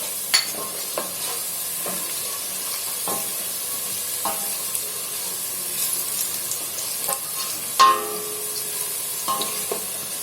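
Fenugreek seeds sauté in hot oil for pakora karhi, a steady soft sizzle broken by repeated clinks and scrapes of a spoon stirring the pan, close up with no voices.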